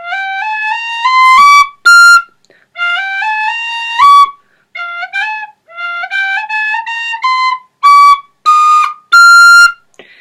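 A professional, tunable six-hole wooden tin whistle in F plays solo, rising in quick stepped runs and holding bright high notes, with short pauses between phrases; the sound is loud and close.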